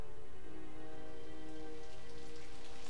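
Steady rain falls in the Sega Dreamcast game Sakura Taisen 2, a dense, even hiss of drops on a surface with a low tonal game backdrop beneath, continuous and alone for the whole stretch.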